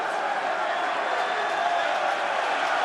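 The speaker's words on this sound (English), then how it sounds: "loud cheer here from all the home faithful" A steady roar from a home crowd at a Munster versus Glasgow Warriors rugby semi-final, a dense, even wash of cheering that holds throughout under commentary.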